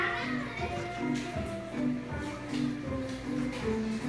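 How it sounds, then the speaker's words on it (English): Kids play in the background indoors, their voices and chatter rising and falling continuously at moderate distance, faint and a bit muffled. "Sorry about those noise. My kids playing."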